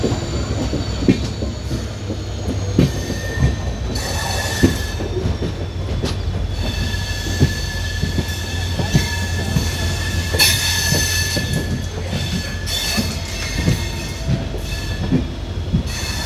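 A passenger train on the Madurai to Bodi line via Theni rumbles past at close range, with steady rolling wheel noise, rhythmic rail clatter and intermittent metallic squeals over sixteen seconds.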